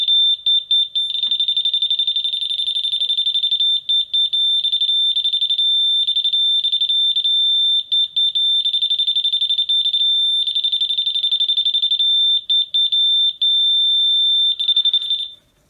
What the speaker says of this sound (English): We've also got the laser detector here,